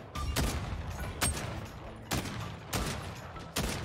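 Loud bursts of automatic gunfire in the online shooter game xDefiant, several sustained volleys separated by short pauses, dense and close.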